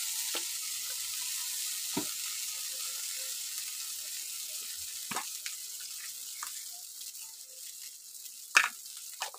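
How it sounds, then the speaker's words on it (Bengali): Meat, already fried in white oil, sizzles in a pan as mustard oil is added for a chicken stew, a soft continuous fry hiss carrying on throughout, with a few sharp clinks and knocks of utensils scattered across it. "মাংসটা সাদা তেলে ভাজা হলো, এবার সর্ষের তেল দেওয়া হচ্ছে।"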